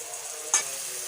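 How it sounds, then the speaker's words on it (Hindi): Garlic, green chilli and ginger paste frying in oil, a steady soft sizzle with a brief louder burst of stirring midway, close and alone without talk. "इसको हम थोड़ा सा करेंगे फ्राई, 1 से आध मिनट के लिए इसको फ्राई करेंगे।"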